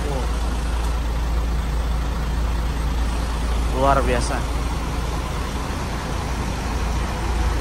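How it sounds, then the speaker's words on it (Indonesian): The Scania engine of a sleeper bus runs as a constant low rumble, with someone speaking briefly over it. "Mesin pacunya Scania."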